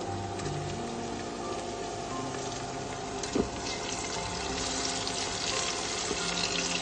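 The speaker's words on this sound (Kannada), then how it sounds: "ಈಗ ನೋಡಿ ಈರುಳ್ಳಿ ಸ್ವಲ್ಪ ಫ್ರೈ ಆಗಿದೆ" Onions frying in a pan for vegetable pulao, a steady, dense hiss of sizzling oil that runs unbroken throughout, close and moderately loud, with no talking.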